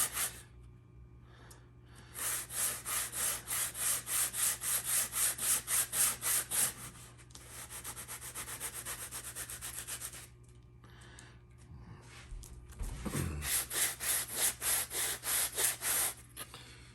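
CBN razor hone being resurfaced on 80 grit abrasive, close rhythmic back-and-forth scraping strokes in two runs separated by a quieter steady rubbing passage.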